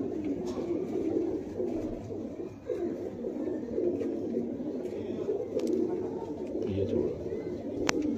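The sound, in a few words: pigeons cooing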